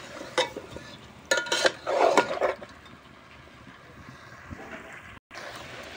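Chicken curry with garlic stirred in a pot: a short run of scraping, clattering strokes near the start, then a quieter steady simmer in the background.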